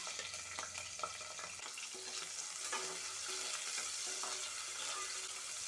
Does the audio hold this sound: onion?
yes